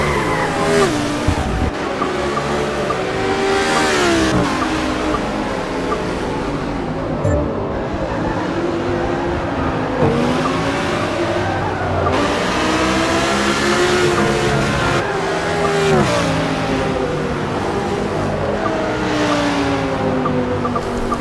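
Several race cars in a sim racing video game scream past in a close pack, engines rising and falling through gear changes with occasional tire squeal, loud and continuous throughout.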